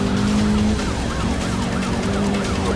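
A police car siren wails steadily in the Need for Speed Rivals video game during a pursuit, loud and continuous over a constant engine drone.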